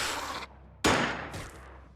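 Gunfire in the tactical strategy game Xenonauts: two loud, sharp burst-like shots, the second followed by a trailing echoing volley, with no speech.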